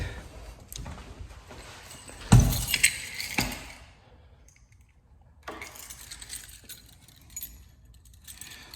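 A bunch of keys jangles and clinks close by in a burst of metallic rattling, followed by quieter handling noise and faint background rumble, with no speech.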